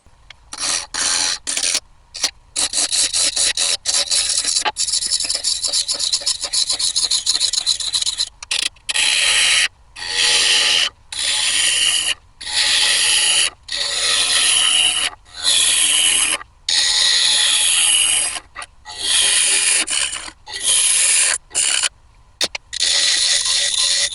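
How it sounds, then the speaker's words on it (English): An English cherry chalice being hollowed on a wood lathe: loud, close, continuous scraping and rasping in long bursts separated by brief pauses, with no talking. "And now to hollowing."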